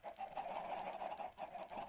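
Minecraft chickens clucking in a quick run of short repeated clucks, faint and close together.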